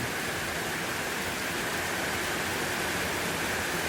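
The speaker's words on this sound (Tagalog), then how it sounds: "Ah, tingnan nyo, ulan." Steady, dense hiss of rain pouring down continuously, even and unbroken throughout with no voices.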